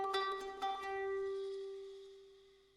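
A melody phrase played through a free Delay VST plugin preset, a few quick bright plucked notes up front, then one held tone ringing out in a long, smooth echoing tail that slowly fades.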